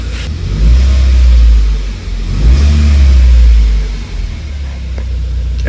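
A Subaru WRX engine, recently repaired for rod knock, is revved twice in loud, close surges that each rise, hold briefly and fall back toward idle.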